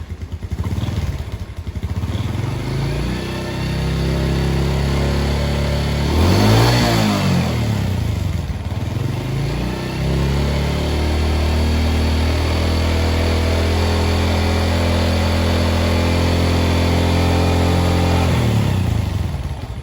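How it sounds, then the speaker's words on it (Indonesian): A Legend 2000 motorcycle engine running up close in an engine test, idling steadily with a clear rev rising and falling midway and a softer rev later, mechanical clatter underneath. "Hari ini kita mau tes mesin si Legend 2000."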